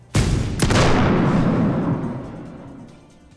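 A lit fuse on a toy firework goes off with a sharp loud burst, followed by a second crack a moment later and a long hissing, crackling tail that slowly fades away.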